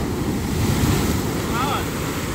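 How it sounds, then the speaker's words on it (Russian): Heavy surf roars continuously close by, waves crashing and churning with strong wind buffeting the microphone. "Волны страшные, конечно,"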